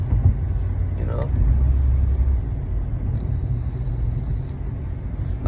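Car driving along a road past a cigarette outlet, a steady low engine and road rumble heard from inside the vehicle, continuous under someone talking.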